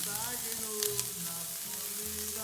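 Sliced shallots, about 30 grams, sizzle steadily in a hot pan on the stovetop for an omelette, with a few brief scraping stirs mixed into the constant close frying hiss.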